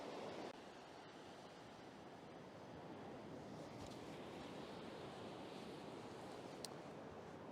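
Incoming tide surging and washing up onto a shore, a steady broadband churn of water that holds at a constant level for the whole stretch with wind-like hiss and no voices.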